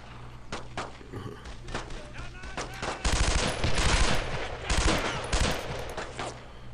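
A grenade blows up in Brothers in Arms: Road to Hill 30 amid heavy World War II gunfire, with a loud thudding blast and rattling shots over continuous battle noise and scattered voices.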